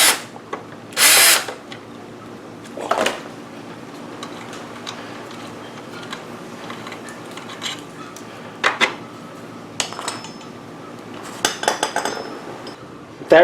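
A hand ratchet clicks in short bursts while backing out an 8mm kickstarter bolt on a GY6 scooter engine, with a few sharper metallic clanks between quiet pauses.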